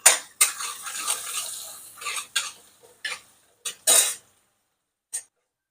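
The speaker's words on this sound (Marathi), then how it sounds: "गॅस फुल केला कांदे परतून घेऊ शेंगदाणे टाकले" Onions and peanuts are stirred in a pan over full gas, a spatula scraping and clattering against the metal in short, irregular bursts with quiet gaps between, near and fairly faint.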